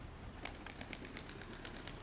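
Pigeons coo softly and flap their wings, with a run of quick, crisp flutters and wingbeats standing out over a low, steady background, heard at moderate distance and fairly faint.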